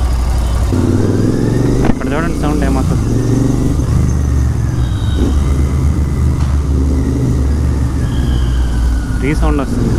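A Continental GT650 motorcycle idles and revs in traffic, its engine rumble echoing off the surroundings. Steady low engine noise runs throughout, with brief revs and other traffic sounds. A rider talks over it.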